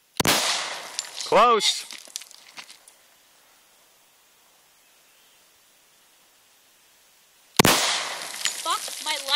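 Two sharp, loud gunshots from a first-time shooter, one at the start and one near the end, each ringing out briefly, with someone speaking between and after the blasts and a long quiet stretch in the middle.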